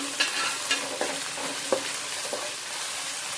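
Onions with ginger paste sizzling in a pan, a continuous frying hiss broken by several sharp scraping stirs of a spoon, close and clear with no talking.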